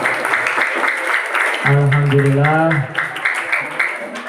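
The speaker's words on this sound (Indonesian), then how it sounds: "Kita tepuk tangan ya." An audience claps hands for a group, the applause running throughout while a voice speaks and a brief sung or drawn-out vocal phrase rises over it.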